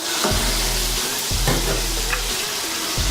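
Tomato and turmeric powder hit a hot frying pan of potatoes and onions for Aloo Pyaaz, giving a loud, constant sizzle with the scrape of a spoon stirring in short strokes.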